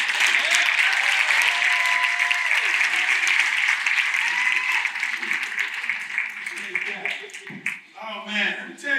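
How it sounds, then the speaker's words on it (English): A summit crowd greets a speaker with loud, continuous applause that gradually thins out toward the end, where a few voices and cheers come through. "So, with a huge round of applause,"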